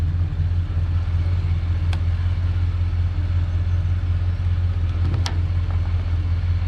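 An old Dodge D100 pickup found in a barn idles steadily up close, its low rumbling engine constant throughout with a couple of brief metallic clicks and no speech.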